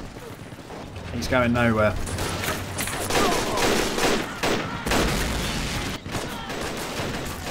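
Bazooka strike and bursts of gunfire in the Men of War video game battle at Carentan, with loud booms and crackling shots filling the mix while someone talks over them.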